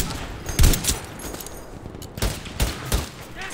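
Scattered gunfire in the video game Battlefield V, several sharp reports in irregular bursts, some punchy and near, others softer and farther off, with no talk over them.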